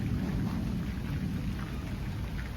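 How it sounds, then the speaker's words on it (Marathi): Rain falls steadily with low rumbling thunder on a stormy Lakshmi Puja evening, a dense continuous wash of sound close by with no voices. "ढग गडगडतान वीज चमकतं"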